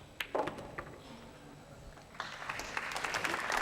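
A crowd at a world pool championship match applauds a pool shot, first as a short burst of claps and then as a fuller, sustained round of applause heard from a distance.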